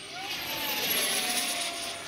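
A JP MiG-15 electric ducted fan RC jet gives a steady high whine that holds level for about two seconds, with a faint rising tone.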